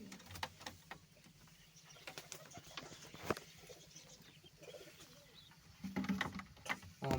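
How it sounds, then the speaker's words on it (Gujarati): Pigeons cooing softly at a village home, faint, low murmuring calls with light patter and rustling in a quiet setting. "આ છે કબૂતર"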